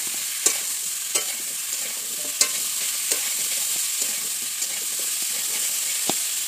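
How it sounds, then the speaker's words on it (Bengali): Continuous sizzling of food frying in a pan, punctuated by several sharp clicks of a utensil stirring against the metal. "এবার কচুটা একটু ভালো করে ভাজা করে নেব"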